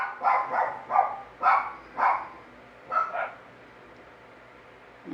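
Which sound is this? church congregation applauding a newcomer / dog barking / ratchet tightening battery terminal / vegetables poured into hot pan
dog barking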